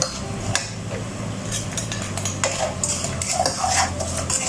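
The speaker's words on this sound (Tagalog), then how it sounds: "mix together." A spoon clinks steadily against a bowl while brown sugar is mixed into a marinade for chicken wings, with continuous scraping and stirring and occasional sharper metallic taps, close and fairly loud.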